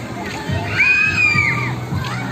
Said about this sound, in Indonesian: Ada suara teriakan di sebelah. Nah, itu sumbernya tuh, namanya Jamprok.